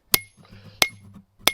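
Three sharp, ringing blows of a flat peen hammer on hot steel while forging a Viking war axe, evenly spaced about two-thirds of a second apart, loud and close with brief metallic ring and faint clatter between strikes.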